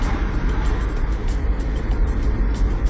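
Plug-in hybrid car fitted with an MD-Tech conversion kit running in electric EV mode at over 50, with a steady broad road and cabin rumble and no engine note standing out.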